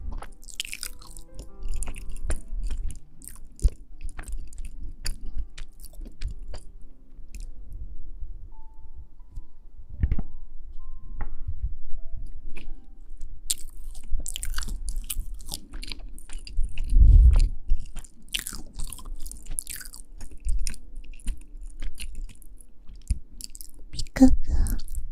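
Close, crunchy chewing and biting of food during eating, with soft wet mouth sounds repeating throughout and a few louder crunches, under occasional quiet speech.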